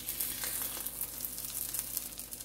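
Sardine omelet of egg frying in a pan, a dense close sizzle with crackling bursts and a soft scrape as it is turned, steady throughout with no talking.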